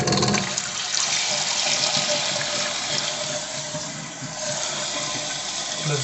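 A toilet tank refilling after the water supply is turned back on, a loud close rushing hiss of water flowing steadily throughout, easing slightly midway before continuing.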